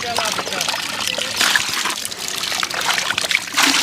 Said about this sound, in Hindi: इसको थोड़ा सा पानी मिलाना है।